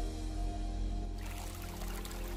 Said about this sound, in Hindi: झरनों की कलकल